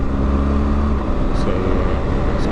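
A BMW R1200GS Rallye motorcycle rides along a road with a loud, constant engine drone and heavy wind rumble, close and unbroken.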